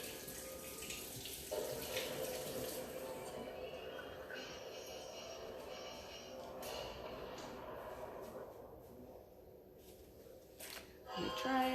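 Tap water runs steadily as a cake pop pan is rinsed at a kitchen sink, with the flow fairly faint and lower background sounds around it, ending with louder handling noise.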